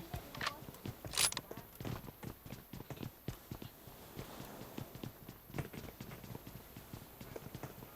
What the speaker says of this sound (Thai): ได้ยินเสียงเท้ามันละมันรออยู่ตรงบันได